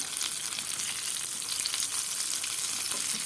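Two onion balls deep-fry at a time in a small pot of hot oil, producing a dense, even, close crackling sizzle that stays steady throughout with no speech.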